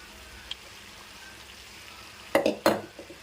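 Boiled white rice goes into a hot pan of soy sauce and vinegar for veg fried rice, a soft background sizzle rising into two loud, close bursts of stirring and tossing near the end, with no voices.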